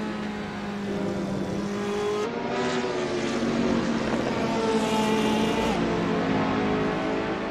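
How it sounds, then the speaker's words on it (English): A Smart 453 race car engine drones steadily in a racing game replay, its tone shifting as it pulls into the pits among other cars, loud and continuous with no talk. "Smart 453 entering the pits"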